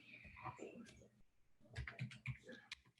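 Light keyboard typing on a lighting console keyboard during patching, a few soft clicks mixed under ongoing talk.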